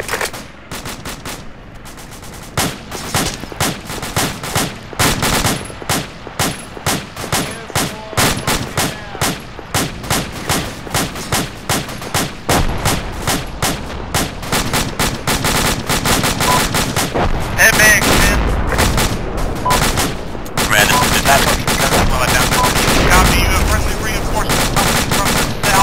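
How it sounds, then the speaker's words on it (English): Automatic weapon fire in the military video game Arma 2, loud rapid bursts of machine-gun shots in a steady rhythmic stream, then continuous dense gunfire near the end. "Keep fucking shooting."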